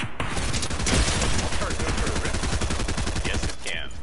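Shotgun blasts in Fortnite, a rapid run of loud shots piling up over a constant wall of game noise and explosions.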